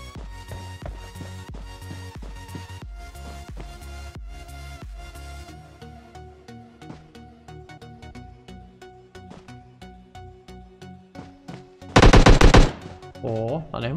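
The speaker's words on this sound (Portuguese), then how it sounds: "Aonde que esse doido tá atirando" Rapid automatic gunfire in PUBG Lightspeed played on the BlueStacks emulator, running as dense repeated bursts for most of the stretch, with a loud sharp blast near the end and a voice speaking under it.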